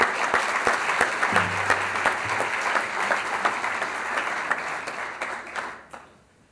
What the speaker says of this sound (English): I'd also like to give all of our awardees one last applause.